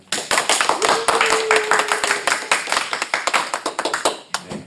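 A church youth-service congregation claps warmly as a student receives a gift. Steady, loud applause with sharp individual claps runs for the whole stretch, with no talking over it.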